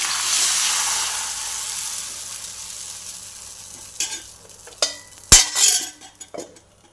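Semolina stirred into dosa batter with a utensil, a steady soft scraping swirl that grows into a few sharper scrapes and clinks against the vessel toward the end, close and with no talking.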